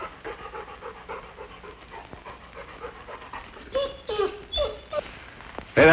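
A trained dog pants after an obedience demonstration with fetch and heel commands, its breathing rhythmic and close, with sharper bursts of panting or whimpering near the end.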